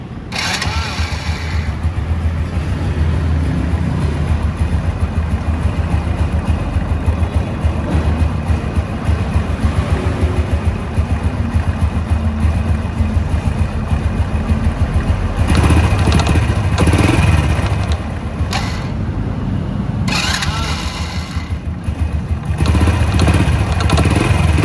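A used 2008 Honda Wave S motorcycle with original parts, its engine idling loud and close in a steady, smooth, even putter throughout, with slight surges in revs along the way.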